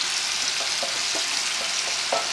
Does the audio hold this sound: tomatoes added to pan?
yes